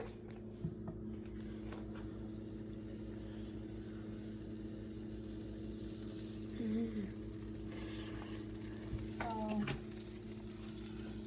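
Butter sizzles softly in a cast iron pan as bread fries, a faint steady crackle over a low constant hum, with a few brief scrapes near the end.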